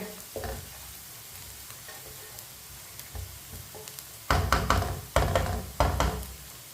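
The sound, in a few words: onions frying in a pan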